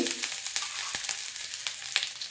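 Chopped ginger sizzles in a spoon of hot oil and ghee for mutton pepper dry, a faint crackling fry broken by sharp pops and spoon scrapes, with no voices.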